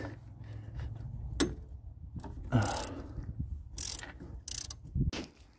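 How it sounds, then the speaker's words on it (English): A 17mm wrench works stubborn, tightly torqued bolts off a tractor steering part, giving a few separate short ratcheting and scraping bursts between quiet gaps. "17mm wrench, by the way. And these things are a little tough to get off."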